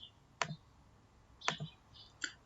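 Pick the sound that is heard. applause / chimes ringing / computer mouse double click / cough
computer mouse double click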